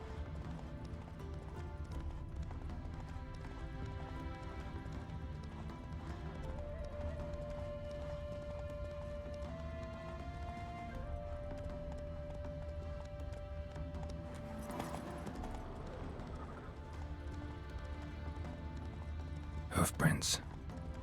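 Roach's hooves clip-clop steadily under a continuous ambient game soundscape in The Witcher 3, faint and mid-distance, with a brief sharper burst near the end.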